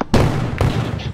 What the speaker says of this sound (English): Why did I shoot?